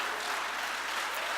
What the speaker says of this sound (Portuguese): levante a sua mão e aplauda o Senhor bem forte